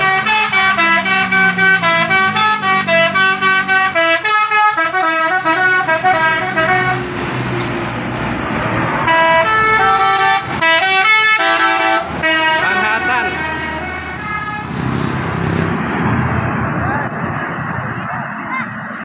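Bus telolet horns play their rapid musical tooting melodies over the passing roar of buses at the Anyer monument, loud and repeated, while a gathered group of children shouts and chatters throughout.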